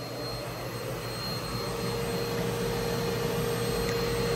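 Vaniman Pure Breeze FX HEPA fume extractor running: a steady, close whooshing fan roar with a faint high whine, constant throughout and slightly louder later, with no speech.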